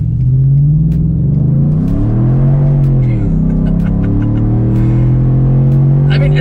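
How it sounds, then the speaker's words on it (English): A bone-stock Ford V8 in a retro 1980s-style F150 pickup held in gear in sport mode, revving loudly and close with a deep rumbling note that rises and falls in pitch as it pulls. "bone stock, the bone stock Ford V8."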